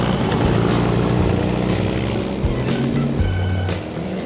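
A car driven by a Liechtenstein automobile builder rolls up a road, its engine a steady, loud, close drone that eases slightly toward the end.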